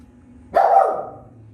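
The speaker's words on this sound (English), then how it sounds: "Puppy is upset about something." A single upset puppy's bark in a home kitchen, one sharp close yelp that tails off over about half a second against quiet room tone.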